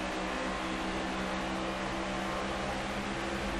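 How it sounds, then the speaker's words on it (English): Next-gen NASCAR stock cars in the NASCAR 25 racing game drone with a steady, dense engine roar at a superspeedway, loud and unbroken, with no voices. "Listen to all those next gen cars roar to life."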